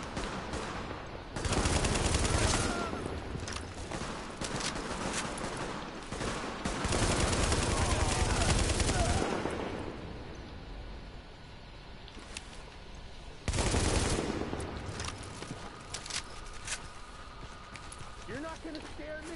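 Gunfire in the shooter game Tom Clancy's The Division, coming in loud dense bursts of rapid shots that stop and start across the clip, with quieter stretches between volleys.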